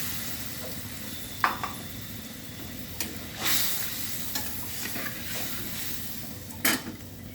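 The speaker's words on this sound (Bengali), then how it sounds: "ঝোলটা ফুটছে, আমি বড়াগুলো দিয়ে দিলাম।" Lentil-fritter gravy made with mustard and poppy seed bubbles in a pan, with a soft steady simmer broken by occasional spoon scrapes and clinks.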